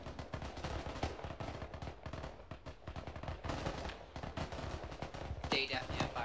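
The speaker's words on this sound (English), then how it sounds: "They're also shooting into the sky in victory." Rapid bursts of gunfire from enemy soldiers firing into the sky in ArmA 3, a dense, continuous crackle of shots at mid distance with a brief sharper burst near the end, voices faintly mixed in.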